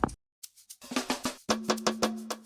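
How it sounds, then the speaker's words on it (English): A drum roll from the 7th Beats drum kit for an Afrobeat track: a few scattered hits, then a quickening run of punchy strikes with a ringing pitched tone beneath, loud and alone. "we got a roll from 7th Beats drum kit."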